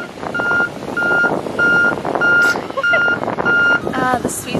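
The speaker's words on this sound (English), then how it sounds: "Truck in the background." A truck's reversing alarm beeps in a steady repeating pattern on a busy Miami Beach street. It sounds loud and close, with people talking and crowd noise underneath.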